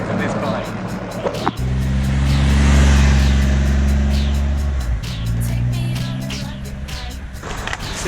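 A Triumph Rocket 3R motorcycle engine drones steadily while the bike is ridden on the road, swelling louder in the middle and then easing off, with wind noise and a rider's voice over it.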